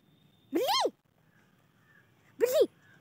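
Cat meows twice, close and clear, each cry a rising then falling wail roughly two seconds apart, with near silence between them.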